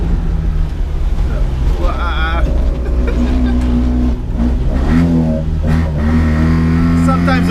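A small 550cc four-stroke engine in a 1980 Mitsubishi Minica van runs loud and close, its steady drone rising in a couple of revs, heard from inside the cabin with a voice talking over it.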